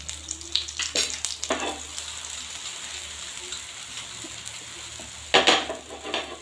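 Tawa idli fries in ghee on a hot griddle with a continuous close sizzle and crackle, broken by brief sharp spatters and scraping bursts near the start and end.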